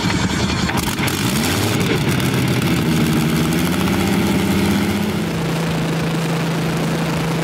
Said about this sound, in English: The Rolls-Royce Griffon MK58 captivated audiences at the Danish Time Winder Festival, leaving a lasting impression with its deep, resonant sound.